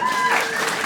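Comedy club audience breaking into clapping and some cheering at a stand-up show, a dense, steady burst of applause lasting about a second with a faint voice mixed in.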